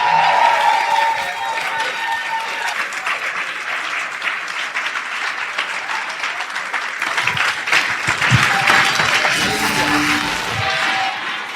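A church congregation applauding to welcome the bishop at a Sunday morning service in Calgary, Canada, dense sustained clapping from a large crowd filling the room, loud and continuous with faint cheering mixed in.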